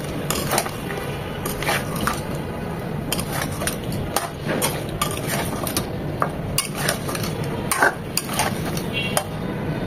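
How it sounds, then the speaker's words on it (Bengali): Chicken pieces in sour yogurt are stirred and mixed in a pan for Kashmiri chicken masala, with repeated wet scraping strokes of a utensil against the pan over a constant sizzle. "টক দইয়ের সাথেও চিকেনগুলো এরকম 3-4 মিনিট এভাবে নেড়ে চেড়ে মিশিয়ে কষিয়ে নেব।"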